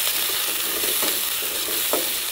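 Onions and green chilies fry in a pan, giving a steady close sizzle with a few soft stirring scrapes and no voices.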